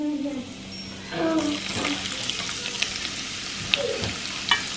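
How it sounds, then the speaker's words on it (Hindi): Cumin, dried red chili, asafoetida and garlic crackle in hot oil for an aloo muttar tempering, a steady close sizzle with a few spitting pops and faint scraping, no voices over it. "जीरा, ज़्यादा नहीं क्योंकि अवलीन नहीं खाती, सूखी लाल मिर्च, थोड़ी सी हींग, और गार्लिक"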